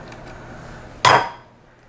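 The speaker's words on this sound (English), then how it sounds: "that's not the way to break an egg" A single egg cracks against a hard edge in a kitchen before making grits, one sharp close knock that fades quickly into quiet room tone.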